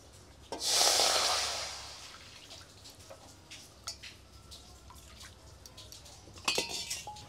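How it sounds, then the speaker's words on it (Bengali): Water splashes into a hot wok used for frying spices for a Bengali fish roe dish, a bright rushing burst near the start that fades, followed by faint clinks and kitchen clatter. "কড়াইতে দিয়ে দেব জল"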